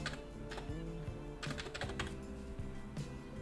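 A computer keyboard is typed on in quick, uneven bursts of light clicks over a soft background hum, close and fairly quiet, with no talking.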